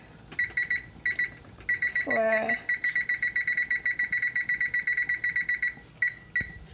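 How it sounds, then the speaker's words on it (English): Kitchen timer alarm beeping in rapid repeated bursts while chicken stews, loud and steady with brief gaps, plus a short spoken word partway through. "And I'll put on the timer"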